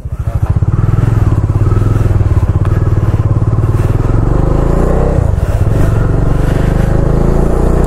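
Motorcycle ridden on the open road at the start of a long trip from Mumbai to Jaisalmer, a loud, close, steady engine throb with wind rush throughout and no talk.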